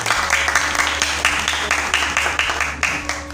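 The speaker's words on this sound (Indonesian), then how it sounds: "Untuk tepuk tangan untuk kita semuanya." An audience applauds at a junior high school event, with dense, loud clapping that rises and falls in waves across the whole stretch and a low background hum beneath it.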